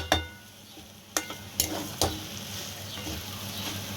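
Chunks of giant taro (mankochu) frying with spices in a pan, a low steady sizzle broken by a few sharp spatula knocks against the pan, close and quiet.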